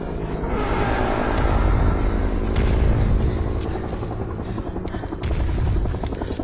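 A helicopter flies close in an action movie scene, its rotor thudding in a loud, continuous rumble that swells and fades slightly without any talking.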